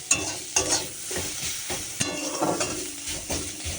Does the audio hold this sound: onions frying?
yes